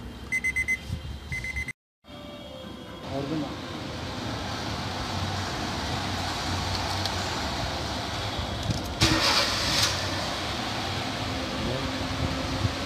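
A car fitted with a GT06N GPS tracker and relay starts up after a few short electronic beeps and a brief silence, then settles into a steady, close engine idle with a whirring, fan-like drone.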